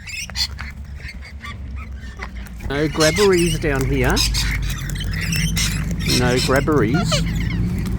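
Wild Australian birds being hand fed call out in loud, harsh squawks and honking cries in several bursts, close to the microphone, while a person talks to them.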